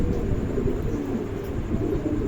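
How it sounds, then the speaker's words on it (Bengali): Pigeons coo steadily at a breeding shop, a pair kept together, the low murmuring continuous and fairly close, with no talking over it. "চমৎকার একজোড়া কবুতর, দেখেন একদম কোয়ালিটিফুল কবুতর"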